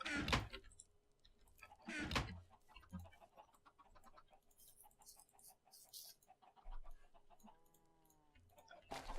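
Chickens cluck in a Minecraft game world, short clucks and bursts scattered throughout, with a voice talking and a few knocks and clicks in between.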